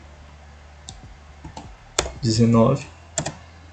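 Computer keyboard keys clicking in short scattered bursts while entering commands into the Maxima math software, heard alongside someone speaking Portuguese.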